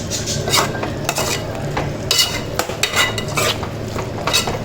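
A spoon stirs spiced cuttlefish curry in a pan, scraping and clinking against the metal in an uneven steady rhythm, close and fairly loud with a faint sizzle beneath and no talk.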